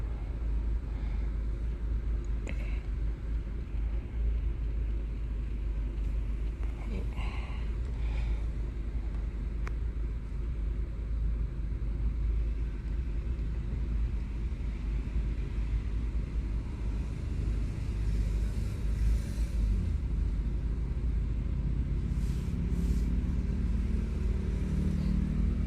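A Land Rover Freelander 1 with the 1.8 engine idles steadily for a long stretch, a constant low rumble with no revving, heard close and alone while the car has a hill descent light fault.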